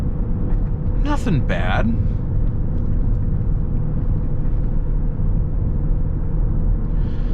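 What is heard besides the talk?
road and tire noise in BMW X5 xDrive35d diesel at 50 mph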